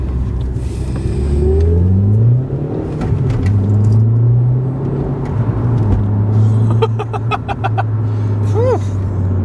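A 2009 Volkswagen Polo GTI with a 1.8 turbo engine and five-speed manual accelerates, its engine note rising through the gears in loud, close pulls with road rumble, and people talking near the end.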